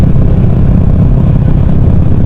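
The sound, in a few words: motorcycle with LeoVince aftermarket exhaust revving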